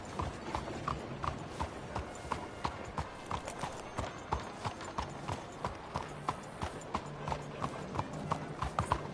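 Horse hooves clip-clop at a steady, even pace in a PS4 game, each footfall a crisp, distinct knock repeating throughout, with faint mechanical rattling and background game sound underneath.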